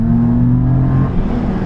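A mini truck engine drones loud and close, its carburetor pulling air through the filter with a steady, throaty intake rush and low humming tone that holds evenly with no talking.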